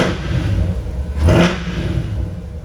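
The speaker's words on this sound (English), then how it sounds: "So we'll just hop out with the car running and we'll have a look and a listen." A Corvette Stingray engine running with the driver out of the car, a steady rumbling idle that swells into a short rev midway before settling back.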